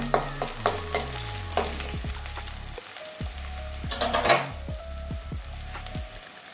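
Vegetables sizzle and fry in a pan while a spatula stirs and scrapes them, giving a steady crackle punctuated by repeated clanks and sharp knocks of the utensil against the pan; no talking.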